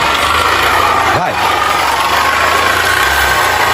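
Motorcycle engine with an excessive, abnormal noise, running steadily and loudly up close with a broad, noisy roar and one brief dip and swell in pitch partway through, suggesting a short rev.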